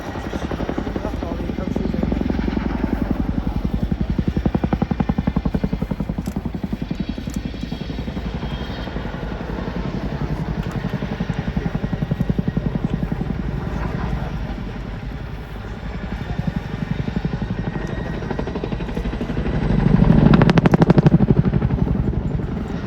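Heavy, steady rotor thump of a Chinook helicopter flying a display at an air show, throbbing continuously and swelling louder near the end, with voices faintly underneath.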